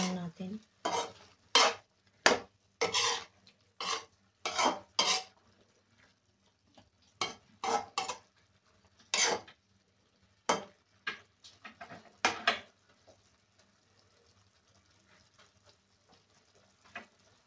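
Igado with a beef Knorr cube being stirred in a pan, a series of distinct scraping and clinking strokes coming in irregular bursts, close and fairly loud, with quieter stretches toward the end.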